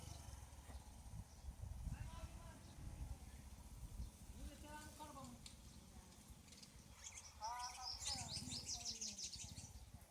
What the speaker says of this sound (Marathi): इथं चिमणी आली एक पाणी पिण्यासाठी.